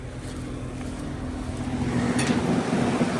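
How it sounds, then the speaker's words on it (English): Outdoor fan motor of a 2017 2.5-ton Lennox Elite heat pump running in heat mode in winter, a steady whirring hum with airy rush that swells slightly louder as it spins up. "There's the fan motor."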